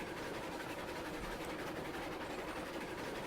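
A train in the video game RailRoads Online rolls along the rails with a steady, dense rumble and faint clatter, continuous and fairly loud throughout, no voices.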